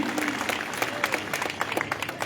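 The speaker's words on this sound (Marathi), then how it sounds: "टाळ्यांचा कडकडा झाला" Dense, sustained clapping from a lecture audience in Latur, loud and continuous for a couple of seconds.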